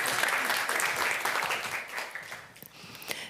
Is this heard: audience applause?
yes